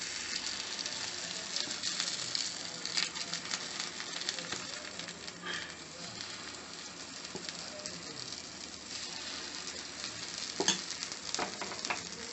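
Sweet Chettinad kuzhi paniyaram cooking in a mix of ghee and oil in a paniyaram pan, a soft, steady crackling sizzle with scattered pops throughout, no talking.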